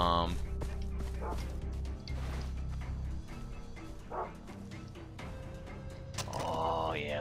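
Dogs bark and yip repeatedly in the Far Cry 3 video game, mixed with steady in-game music and effects at a moderate level.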